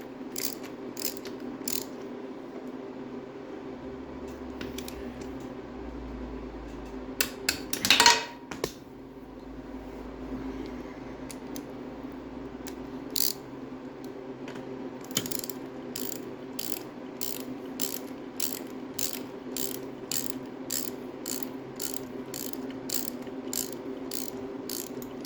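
A ratchet on an extension works on a Triumph TR6 gearbox during a rebuild, giving bursts of quick, sharp metallic clicks, with a louder clatter early on and a fast, even run of ratcheting near the end over a quiet hum.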